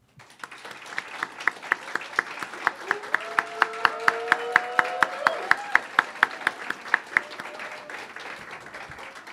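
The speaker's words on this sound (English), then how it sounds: "I kindly ask the audience here to give a big round of applause" An audience at a July 26 Cuban commemoration gives a round of applause, a lively burst of clapping from a modest crowd with sharp individual claps standing out, while a voice speaks briefly over it.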